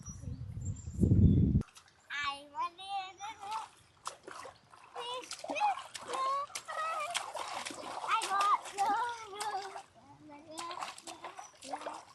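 River water splashes briefly and loudly near the start, followed by continuous chattering voices with chirpy, high-pitched calls throughout.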